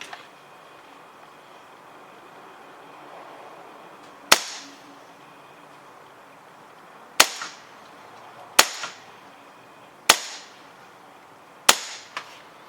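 Five sharp airsoft gun shots crack out one by one at uneven intervals, each a loud, close snap with a short ringing tail over a quiet background hum.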